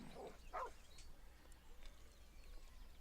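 Scratch, the dog in Baldur's Gate 3, lets out a couple of short, faint growling yips early on, then only quiet background ambience remains.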